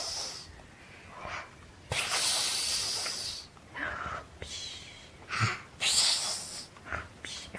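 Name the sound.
child imitating snoring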